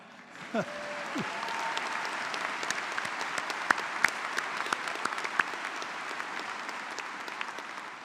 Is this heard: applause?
yes